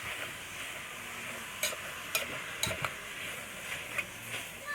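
Callaloo and salt fish are stirred in a pot over a soft, steady simmer, with a handful of light spoon taps and scrapes against the pot's side.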